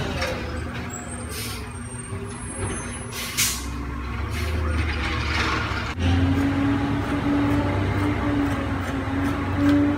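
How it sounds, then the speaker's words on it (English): School bus passing in the background, a low engine rumble with an air brake hiss and a rising drone that grows louder toward the end, with no talk over it. "Please pardon the noise in the background. That is a school bus."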